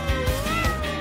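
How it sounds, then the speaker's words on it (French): A cat meows several short times in quick succession, close and fairly loud, with tonal, wavering calls against a quiet indoor background. "Vous avez un chat."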